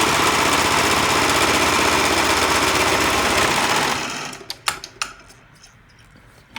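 A sewing machine runs fast and loud in a continuous buzzing drone while stitching around the armholes of a baby top made from old basketball shorts, then stops abruptly, followed by a few sharp clicks and handling knocks.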